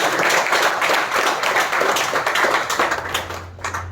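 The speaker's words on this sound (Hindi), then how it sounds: "और हाँ हमारे चोर अंकल के लिए ताली होनी चाहिए" Applause from a theatre audience for an actor after a stage play, a dense, steady wash of many hands clapping throughout, loud and close, easing slightly near the end.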